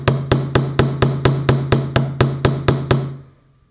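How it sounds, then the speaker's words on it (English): A chasing hammer taps steel wire on a bench block to flatten a paddle head pin, a dozen bright metallic strikes in an even, steady rhythm with a ringing tone under each, close and loud, then a short decay into quiet. "lay it on your bench block, hold it in place, and you're going to tap the end with your chasing hammer"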